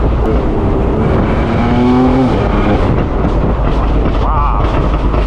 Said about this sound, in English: I'll tell you what, this car needs some earmuffs. It's loud, man.